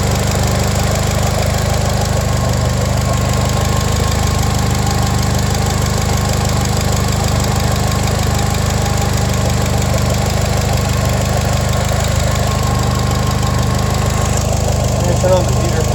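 A car engine with no coolant in the radiator runs steadily with a rough, knocking idle, loud and close, continuous throughout with a voice speaking over it.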